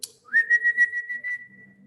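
A person whistles a single sustained, steady rising note to set off a key-finder tag fixed to a set of keys; the whistle is clear, close and heard alone.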